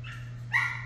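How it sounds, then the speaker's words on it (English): A pet dog gives a short bark or yip in a home kitchen while chicken is prepared with vinegar and olive oil, one brief sharp call close by over a steady low hum. "That's my dog there, Lucky."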